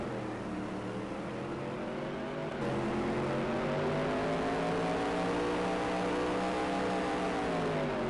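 Dirt track race cars at Diamond Speedway roar through turn 4 during a heat race, several engines droning and rising together in a steady, loud pack with layered harmonic whine and no voices.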